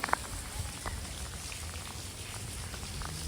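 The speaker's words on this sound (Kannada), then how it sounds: "ಮಳಿ ಹೆಂಗ ಐತಿ ಅಂದ್ರೆ ಹುಚ್ಚಾಗ್ಬಿಡ್ತೀರಿ ನೋಡ್ರಿ ನೀವೇ ನೋಡಿ" Heavy rain hissing steadily across the whole stretch, with a few sharper drops pattering nearby and no voices.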